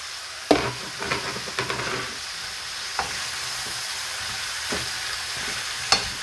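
Courgettes sizzle in oil in a frying pan with a steady close hiss, broken by several sharp clacks and scrapes of a utensil stirring them against the pan.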